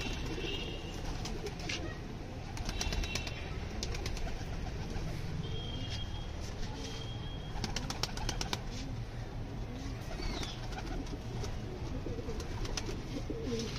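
Pigeons coo softly and repeatedly at close range, with occasional wing flaps and faint chirps in the background.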